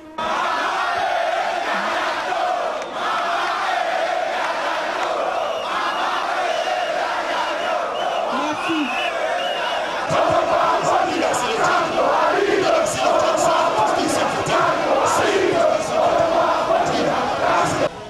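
Thousands of MRC supporters cheer Maurice Kamto at an outdoor rally in the capital, a dense, loud roar of crowd voices, shouts and chants that runs unbroken throughout.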